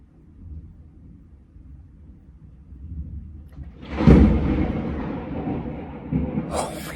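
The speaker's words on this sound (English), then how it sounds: "I love thunderstorms." Thunder in a rainy-day thunderstorm: a low distant rumble builds, then a close, sharp crack breaks into a loud rolling boom that slowly fades, with a second smaller crack near the end.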